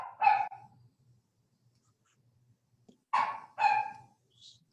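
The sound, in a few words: dogs barking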